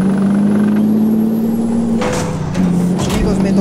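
Kenworth T600 engine straining under load in American Truck Simulator, a loud, steady low drone that shifts pitch partway through, with a brief hiss-like burst.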